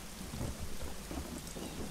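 Outdoors in Geheimakte Tunguska, dense rain patters steadily while low thunder rumbles underneath throughout the short stretch, moderately loud and without talking.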